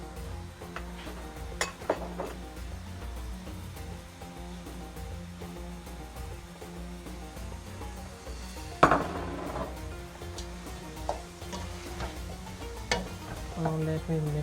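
Cumin, coriander and curry powder are stirred in a pot over a steady low hiss of cooking, with scattered scrapes and one louder clank of the utensil against the metal.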